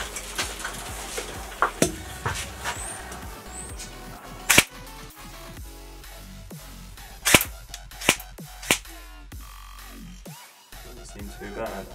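Airsoft BBs fired at safety glasses make a series of sharp, irregular cracks and snaps, with a few loud impacts standing out over a busy background, and people talk in between.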